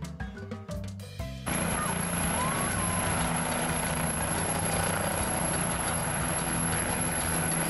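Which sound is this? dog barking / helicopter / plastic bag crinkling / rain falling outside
helicopter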